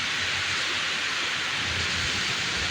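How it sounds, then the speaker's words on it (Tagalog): Heavy rain pouring down during an outdoor jog, a dense, loud and unbroken hiss of falling water that stays steady from start to finish with no voices. "Kaya lang, biglang bubuhos ang ulan."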